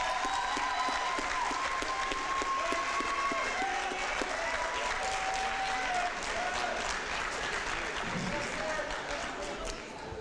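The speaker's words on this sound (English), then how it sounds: "let's give them a round of applause" A school athletic signing day crowd of parents and friends gives steady, dense applause that continues evenly throughout, with a few faint voices and whistles mixed in.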